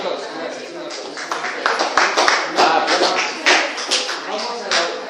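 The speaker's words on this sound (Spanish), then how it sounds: "Un aplauso" Audience applause at a youth spirituality museum event, scattered uneven clapping with irregular bursts, loud and close, mixed with voices.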